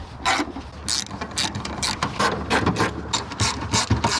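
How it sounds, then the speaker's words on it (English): Rapid clicking of a ratchet wrench tightening wiper arm fasteners on a Honda CR-Z, worked back and forth close by, in quick uneven bursts with short pauses, no voices. "we can tighten these down with a wrench"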